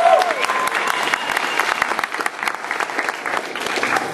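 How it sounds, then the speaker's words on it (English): Audience at an acting class panel at a fan convention breaks into sustained applause, a dense wash of clapping that swells and continues throughout. "Give a round of applause for that."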